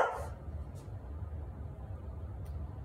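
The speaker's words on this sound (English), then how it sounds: "That's Rosie getting in the background there, getting ready to have a bark, it sounds like." A dog barks in the background, one short distant bark at the start with faint yips later, over a low steady hum in a workshop-like room.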